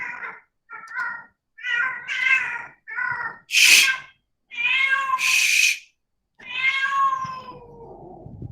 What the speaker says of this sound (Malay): Ya Allah, kucing aku.